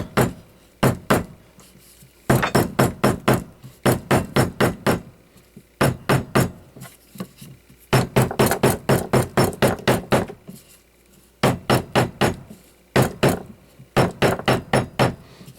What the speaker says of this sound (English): It's got just a hammer that's got different faces you could put on it.